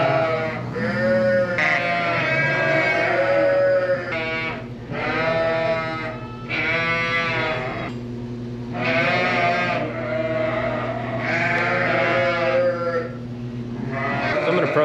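Sheep and lambs bleat repeatedly inside a winter shelter, loud overlapping calls rising and falling close by over a steady low mechanical hum.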